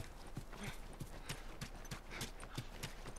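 Horse hooves clip-clop at a steady walking pace in The Last of Us video game, roughly a dozen even, close thuds over soft background ambience.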